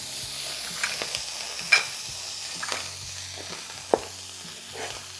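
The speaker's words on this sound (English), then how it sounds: "So we see that bubble straight away," Oil drained from a tin of tuna sizzles and bubbles in a hot pan, a steady, soft crackle with a few sharper pops and clinks of utensils, close by and without talk.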